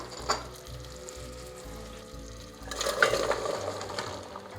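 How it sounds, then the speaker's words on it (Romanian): Chunks of pumpkin drop into boiling sugar syrup for jam, the bubbling surging into a louder, busier sizzle and seething after a quiet start, with small clinks of pieces settling. "În momentul acesta putem adăuga dovleacul"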